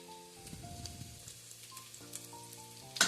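Mint leaves sizzle steadily in a pan under soft background music, a quiet, continuous crackle with a brief louder clatter at the very end; no one talks.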